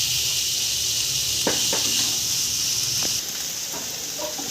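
Onions sizzling in oil in a pan, a steady, bright hiss throughout, with a few soft stirring clicks and taps on top, easing slightly quieter toward the end.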